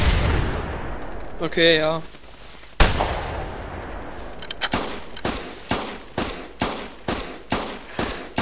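Rifle shots ring out in The Hunter video game during a goose hunt, one sharp crack followed by a rapid run of about eight evenly spaced reports; a bird call sounds faintly earlier and a person speaks briefly.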